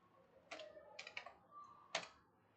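A few separate, faint keystrokes on a computer keyboard, close by and with short pauses between them, as Python code is typed.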